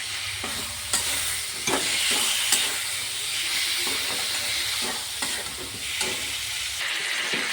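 Yogurt added to a hot pan over lowered gas, a loud steady sizzle with a hiss of steam and repeated scraping strokes of a utensil stirring.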